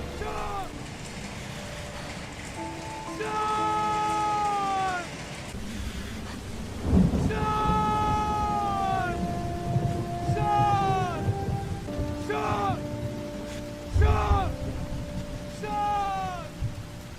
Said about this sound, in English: these are all excellent examples of how rain can and should be done to immerse you in a video game